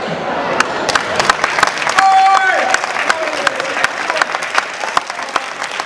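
A crowd claps hands in scattered, uneven bursts, fairly close, with a brief whistling tone and voices mixed in.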